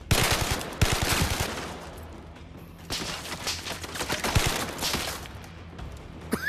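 Gunfire in the video game Zero Caliber: dense, loud bursts of rapid automatic shots, then a brief lull and further sustained volleys, with no talking.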